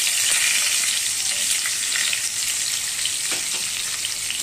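Onions sizzle and crackle steadily in hot oil, a continuous close frying hiss with faint stirring.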